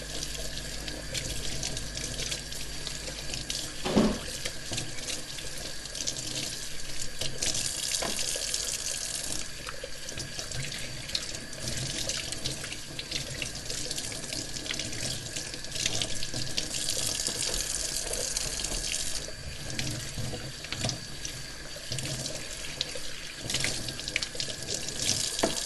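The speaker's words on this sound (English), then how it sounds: "just giving it a good rinse." Tap water runs steadily into a sink while lettuce leaves are rinsed piece by piece to wash off dirt, a continuous close splashing with a few small knocks and no talking.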